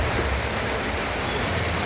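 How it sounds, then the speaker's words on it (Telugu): Heavy night rain pours down in a dense, steady hiss of drops striking surfaces at a market, close and continuous with no talk. "నేను కావాలని ఐక్యూబ్ మీద మార్కెట్కి వచ్చిన ఫుల్ హెవీ రెయిన్ ఉంది."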